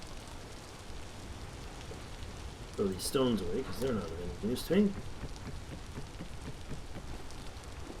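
Steady rain hiss from a temporal storm in the survival game Vintage Story, constant and even throughout, with someone talking briefly over it in the middle.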